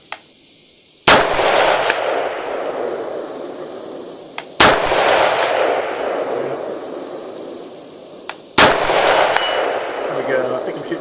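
Three loud, sharp rifle shots from a rifle fitted with a ZenitCo Perst-4 laser, evenly spaced several seconds apart, each followed by a long rolling echo across an outdoor range.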